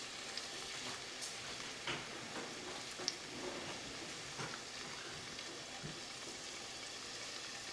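Onion and garlic sizzle in hot oil in a pan, a soft continuous crackling hiss with occasional faint clicks and stirring taps, fairly quiet and without talk.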